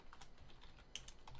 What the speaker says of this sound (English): Sorry for speaking and typing at the same time.